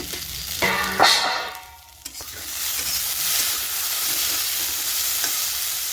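Bitter gourd and potato fry in a pan with salt and turmeric, giving a steady close sizzle with a few brief stirring scrapes near the start.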